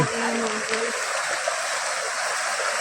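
A water stream runs down Girnar hill as a loud, steady broadband rush, heard close and continuous, with a brief low hum at the start.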